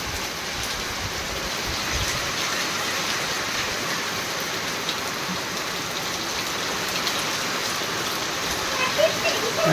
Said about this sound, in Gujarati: પવન છેડે છે, પવન ને વરસાદ બધે